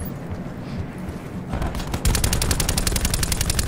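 Gunfire in Call of Duty Black Ops 4 on the Nuketown map: background game ambience gives way to scattered shots, then a loud, steady rapid-fire burst from an automatic weapon close by.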